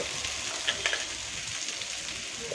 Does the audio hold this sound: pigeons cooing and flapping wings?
no